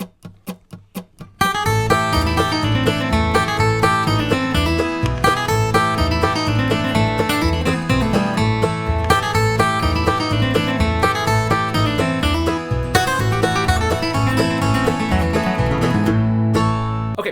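After a few soft picked notes, a fast bluegrass instrumental plays the A part of a tune with another lick thrown in, bright busy string picking driving steadily and loudly throughout.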